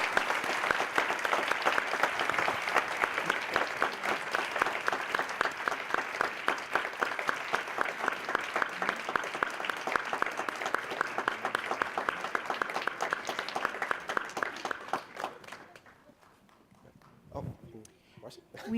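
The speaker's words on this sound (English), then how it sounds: "Please, another round of applause for Mr." Sustained applause from a lecture audience honouring Julian Bond at the Richman Fellow Award presentation, loud dense clapping for about fifteen seconds before tapering off into a quiet room with scattered movement.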